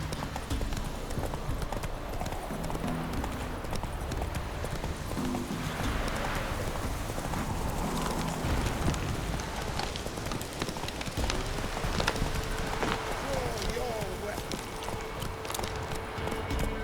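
Roach the horse galloping in The Witcher 3, steady rapid hoofbeats thudding continuously over a busy outdoor game soundscape, with faint ambient noise and no clear speech.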